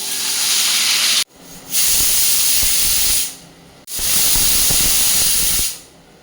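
A pressure cooker on the stove vents steam in two loud, sustained hissing bursts, each lasting over a second, with short quieter gaps between them and no talking.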